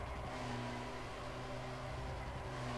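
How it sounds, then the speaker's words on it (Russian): A BMW car engine revving in the Need for Speed Most Wanted racing game, a steady droning roar held for a few seconds with no talking over it. "Вот это да, вот это мощь двигателя."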